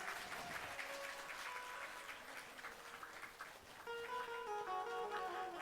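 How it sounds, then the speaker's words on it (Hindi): A temple congregation claps together during a religious discourse, a faint but sustained crowd applause with tonal music rising underneath toward the end. "ताली क्यों नहीं बजा रहे हैं?"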